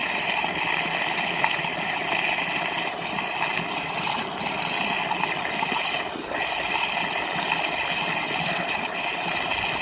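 Water runs steadily into a cow shed trough through an automatic water regulator, making a continuous rushing, hissing flow that stays even and close for the whole stretch, with no one talking.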